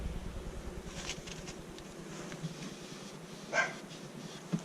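Honeybees clustered in a hive in winter give a low, soft, continuous hum, heard close and faint with a few brief louder buzzes.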